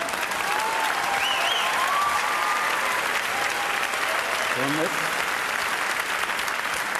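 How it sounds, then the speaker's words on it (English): Theater audience at a live Broadway comedy performance applauding steadily, a dense, even wash of clapping with a few faint shouts and voices over it, moderately distant and sustained. "Applause break number 2."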